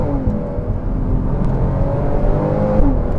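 A Porsche Cayman S 981 engine pulls hard in first gear on a tight hairpin road, a loud, close, steady engine drone with a slight rise toward the end.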